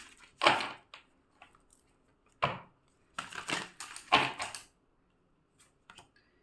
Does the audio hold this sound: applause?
no